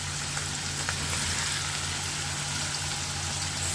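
Moong dal frying in oil over a high flame, giving a steady, dense sizzle that stays loud and even throughout with no talking.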